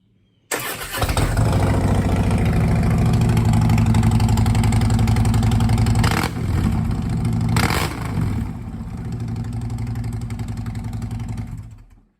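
A Harley touring motorcycle engine with slip-on exhaust fires up and idles with a deep, loud, throaty exhaust rumble, with a couple of sharp revs before settling and cutting off.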